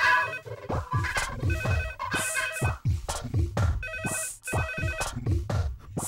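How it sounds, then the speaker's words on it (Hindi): Telephone ringing in a repeated electronic ringtone pattern, several bursts of chirping tones in quick succession, fairly close and alone without talk. "फोन।"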